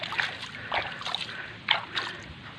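Rambutan seedlings are soaked in water in a rural provincial yard, with several short, close splashes and sloshes coming in uneven bursts.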